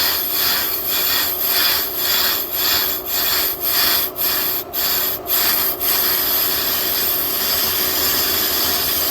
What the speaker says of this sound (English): That was just me messing with this drum.